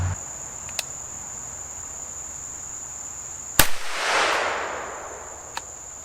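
A single sharp report from an AR-9 rifle with a binary trigger, fired semi-auto outdoors, cracking once mid-clip and rolling away in a short echo over a steady insect drone.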